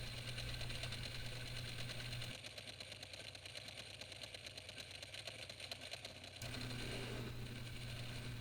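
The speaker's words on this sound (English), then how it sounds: "Bike fires right up, runs great." A Ducati Monster motorcycle with an open dry clutch idles steadily nearby, a constant mechanical drone with a fine rattling texture that holds unbroken throughout.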